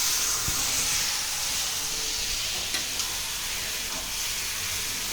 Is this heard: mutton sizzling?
yes